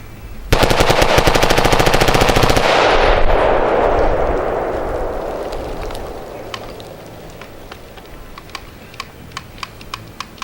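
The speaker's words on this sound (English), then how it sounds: "More bump fire, that was kind of fun." Rapid bump-fired AR-15 shots in a loud, fast, uneven burst for about two seconds, followed by a long fading echo and a few scattered distant shots afterward.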